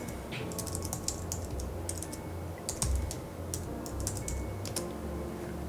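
Clicky computer keyboard typing in irregular bursts of keystrokes while searching for a card in Pokémon Trading Card Game Online, close and clear over a low steady hum, with no one speaking.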